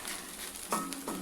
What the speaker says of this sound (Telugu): ఎగ్ అనేది ఎక్కడ పచ్చి పచ్చిగా లేకుండా మంచిగా ఫ్రై అయ్యే వరకు మనం ఫ్రై చేసుకోవాలి